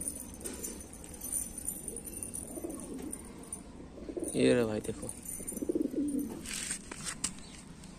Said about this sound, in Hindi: ये मकोया देसी कबूतर है शायद ये।